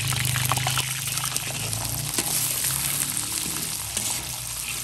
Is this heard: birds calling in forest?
no